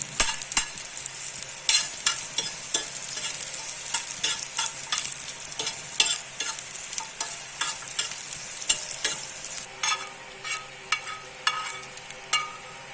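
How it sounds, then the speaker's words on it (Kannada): Curry leaves fry in hot oil for a Tulu-style chicken curry, crackling and spitting in close, busy bursts that continue the whole time, with a short lull near the end. "ಕರಿಬೇವಿನ ಸೊಪ್ಪನ್ನು ಸಪ್ರೇಟಾಗಿ ಹುರಿಬೇಕು"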